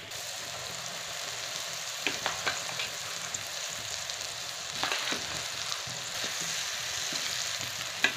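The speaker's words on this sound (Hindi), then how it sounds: "आलू पूरा डाल के अच्छे से मिक्स करके भूंज डालेंगे।" Boiled potatoes stir-frying and roasting in a pan for aloo bonda filling, a steady sizzle with several distinct scraping clatters of stirring, fairly close with no talking.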